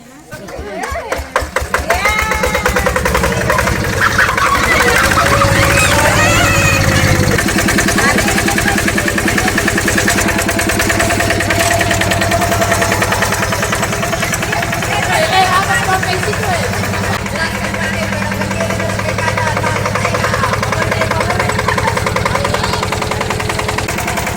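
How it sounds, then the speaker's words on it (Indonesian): A small single-cylinder hand tractor engine sputters to life, then settles into a steady, rapid chugging idle up close, running continuously. "mendemonstrasikan bagaimana menjalankan atau menghidupkan traktor"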